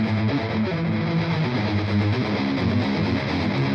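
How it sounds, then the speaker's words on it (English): Distortion and overdrive from the STORMBLADE plugin, a dense, saturated and compressed tone with added highs, playing continuously at a loud, even level with no talking. "The overdrive and the distortion knob, which is this in the center, also it seems to add highs."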